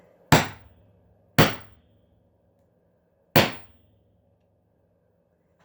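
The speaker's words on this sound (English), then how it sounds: "Cover your ears if you don't want to hear a hammer." Hammer blows while assembling layered paper tags for a junk journal, three sharp isolated strikes with quick decay and pauses between them, close and loud with no talking.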